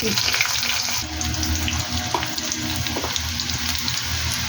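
Onion frying in a pan while making chicken kosha, a loud, continuous sizzle and crackle that stays close and fills the clip.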